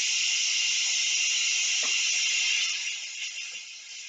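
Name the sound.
pressure cooker releasing steam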